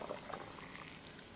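Freshly boiled water is poured from a kettle into jars in a kitchen, making a steady, gurgling stream for a little over a second, close by and without speech.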